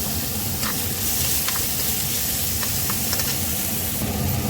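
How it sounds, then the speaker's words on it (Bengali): Chopped tomato going into hot oil with bay leaf and garam masala, a loud, steady, close sizzle with hissing steam and faint stirring clicks, no voices. "গরম মশলা, দিয়ে দেবো কুচনো টমেটো,"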